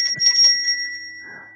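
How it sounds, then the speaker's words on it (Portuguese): A bright little bell chime rings out as a notification sound effect, a clear sustained tone with a shimmering attack that slowly fades away. "É esse aqui. É o sininho."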